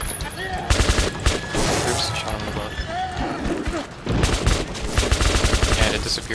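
Gunfire in the first-person shooter Metro 2033 Redux: rapid bursts of automatic shots in two clusters with a short lull between, mixed with game sound effects, while a player talks over the action.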